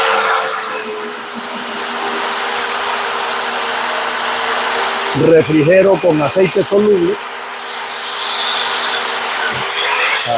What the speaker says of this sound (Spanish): Enciendo el taladro.